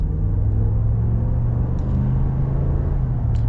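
A 2021 Ram 1500 Big Horn Night Edition pickup with the 5.7 Hemi V8 accelerates gently at partial throttle: a steady, deep engine rumble and drivetrain hum heard from inside the cab, even and fairly loud with no sharp revving.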